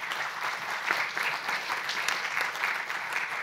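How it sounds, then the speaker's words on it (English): Audience applause for panelists at a conference on climate and finance, steady dense clapping throughout, moderately distant and even in level. "a big round of applause to our panelists"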